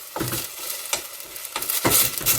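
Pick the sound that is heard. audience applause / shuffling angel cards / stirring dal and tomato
stirring dal and tomato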